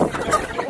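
Broiler chickens clucking and squawking while being caught and moved to pasture, a short, busy burst of close fowl calls over farmyard noise.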